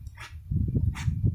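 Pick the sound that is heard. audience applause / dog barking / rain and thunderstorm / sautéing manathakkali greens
dog barking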